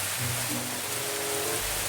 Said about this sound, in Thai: อ๋อ มันเป็นฝนตก